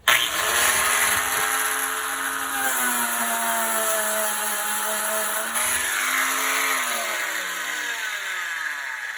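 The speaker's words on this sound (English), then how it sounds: "I'm going to use this just to grind it down and just kind of smooth it out, flatten it out." A power tool grinds down a bumpy patch on a boat surface, a loud steady motor whine that drops and rises in pitch as the load changes, running continuously and alone, without talk.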